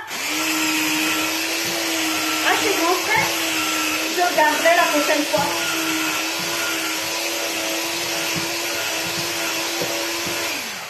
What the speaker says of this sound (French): J'ai mon super ustensile pour la purée.